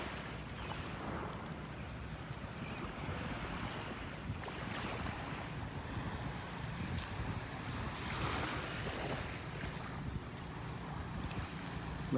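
Ocean surf washes steadily onto a beach in North Naples, Florida, during a morning walk, a continuous broadband wash with gentle swells and wind noise rumbling on the microphone, no voices heard.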